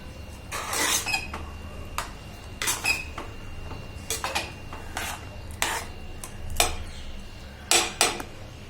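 A spoon works through matki pulao in a pot with scraping, squeaky strokes that come in irregular bursts, close and moderately loud, with no one speaking.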